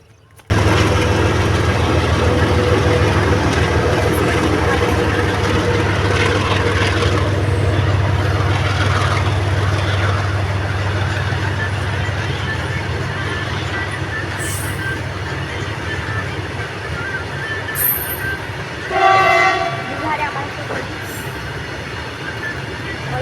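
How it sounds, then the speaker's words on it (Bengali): A passenger train rolls in and passes close by during an Eid family outing, with a steady heavy rumble and rattling wheels that fade slowly, and a short horn blast near the end. "এখানে একটা ট্রেন আসছে, তো আমরা ট্রেনটা দেখানোর জন্য খুব এক্সাইট হয়ে পড়েছি।"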